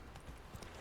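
Hoofbeats of the horse Roach in The Witcher 3: Wild Hunt, a quick run of faint clip-clop steps over a soft background bed, brief and steady.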